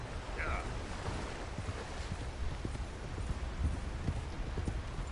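Steady clip-clop of horse hooves at a walking rhythm in the video game Red Dead Redemption 2, over a constant low rumble and wind-like noise, continuing throughout.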